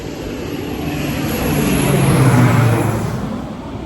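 A fixed-wing airplane passes overhead above a garden where carrots are being planted. Its broad, steady roar swells to a peak midway and then begins to fade, with no talk.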